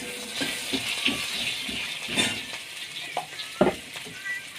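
Onion frying in oil with a cumin and bay leaf tempering, a soft steady sizzle with a few light stirring knocks, fairly quiet and close.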